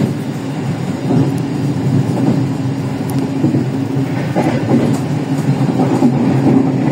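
A Pasundan economy-class passenger train runs steadily over the rails on a winding stretch through Kulon Progo, giving a continuous loud rumble with faint rhythmic clicks from the wheels.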